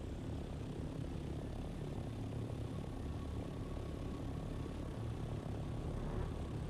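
A flying vehicle's chopper engine in Dune Awakening drones steadily, a continuous dense rumbling whir that holds at an even level throughout, with no speech.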